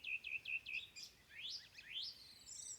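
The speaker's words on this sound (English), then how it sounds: "Check out all of these crazy birds." Several birds chirp and whistle nearby, quick repeated notes followed by rising sweeping calls, fairly faint over a quiet background.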